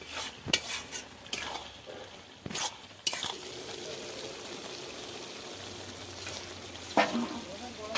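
Spinach and dried shrimp are stirred and tossed in a hot pan, with a steady soft sizzle under sharp spoon scrapes and knocks, loudest in the first few seconds.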